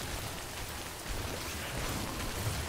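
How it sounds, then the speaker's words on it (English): Steady rain falls in the game Death Stranding, a dense broadband hiss of drops on surfaces that holds evenly throughout with no talking. "Okay, it's just raining so far."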